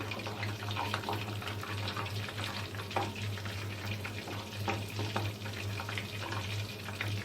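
KFC-style crispy breaded chicken frying in hot oil, a steady dense bubbling sizzle that holds at an even level throughout, close and unbroken with no voices.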